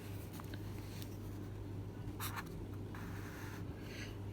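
Pen writing out square root maths working on paper, a faint scratchy stroke pattern with a few brief louder scrapes over a steady low electrical hum, no talking.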